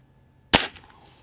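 A Walther Parrus .22 spring-piston air rifle fires a single sharp, close crack with a short mechanical ring-off against a quiet background.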